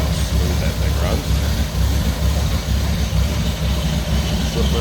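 The flathead engine of a 1936 Ford coupe idles smoothly, producing a steady, loud, even rumble close to the listener that continues without change throughout.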